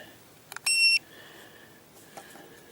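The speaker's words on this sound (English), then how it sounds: "you can see the alarm is actually going off there" An EEZRV TPMS monitor sounds its low tire pressure alarm with a couple of quick chirps and then one sustained electronic beep about a third of a second long, followed by a faint tone in a quiet room.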